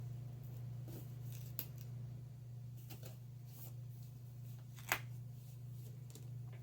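Washi tape being handled and applied in a paper planner gives a few soft, crisp rips and rustles, with one sharper snap near the end, all quiet over a steady low electrical hum.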